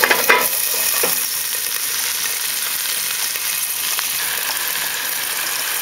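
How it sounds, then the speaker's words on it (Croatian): Sausages frying with red paprika in a pan, a steady close sizzle with brief scraping from stirring at the start, continuous and fairly loud. "Kobasice malo pokresimo."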